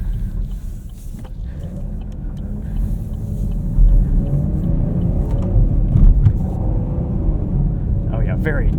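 Engine of a 2023 Chevrolet Camaro 1LT with a 3.6L V6 and manual gearbox while driving: a steady low rumble with road noise that swells slightly midway, under people talking inside the car.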